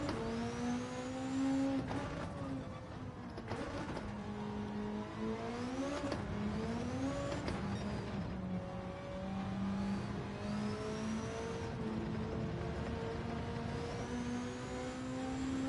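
A car engine in a racing video game revs and shifts repeatedly, steady rising and falling whines that climb and drop through the gears at an even moderate level, with no talking.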